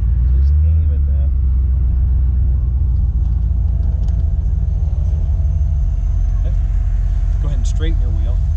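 A Ford Foxbody Mustang rolls slowly on an autocross course, its engine a deep, steady rumble up close, with faint voices in the background.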